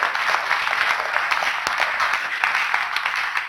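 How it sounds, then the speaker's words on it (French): Audience at a Pecha Kucha education workshop gives the speakers a second round of applause: continuous mixed clapping from a room of people, moderately loud, with a few sharper claps standing out from the steady wash. "méritent une seconde main d'applaudissement, je pense, pour leur implication"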